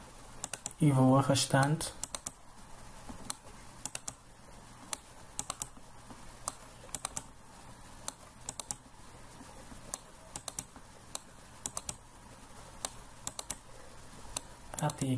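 Computer keyboard keys click sporadically while someone drafts in AutoCAD, with single and double taps scattered across the stretch. Someone speaks briefly at the start, and the clicks continue alone after he stops.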